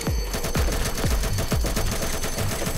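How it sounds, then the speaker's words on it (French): Rapid gunfire in the Roblox game Mad City, a dense run of sharp repeated shots with deep booming impacts, loud and continuous throughout. "Je tire, on tire, on tire, on tire."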